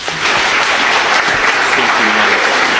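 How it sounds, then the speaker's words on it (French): Audience applause at a speech event, a dense sustained wash of many hands clapping that starts abruptly and continues loud and steady throughout, with faint voices mixed in. "Est-ce qu'on peut applaudir encore, s'il vous plaît, Voilà pour ce discours fort d'Adrien Ounbed"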